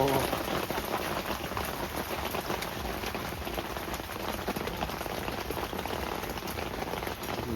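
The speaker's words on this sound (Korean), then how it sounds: "갑자기 우박?" Sudden hail mixed with rain patters densely and continuously onto surfaces at a rainy youth campsite near Seoul, a close, even rattle with faint voices in the background.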